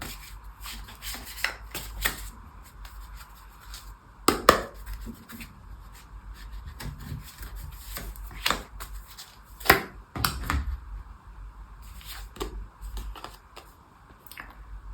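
Oracle cards being shuffled by hand in a tarot-style reading, giving soft repeated riffles and rubbing bursts with a few sharper snaps, close and fairly quiet, with no talking.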